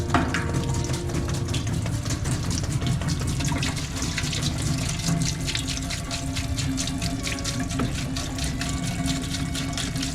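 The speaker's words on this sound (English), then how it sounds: "I'm gonna throw a bunch of water in" Water pours steadily into a Harbor Freight Central Machinery parts washer tank, a loud, continuous splashing gush that fills the whole stretch without a break.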